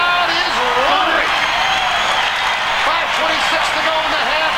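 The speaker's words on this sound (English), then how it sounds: "This crowd is roaring." A basketball arena crowd at a Sonics at Suns game roars in a loud, continuous wash of cheering and applause during a timeout, with faint whistles and shouts rising above it.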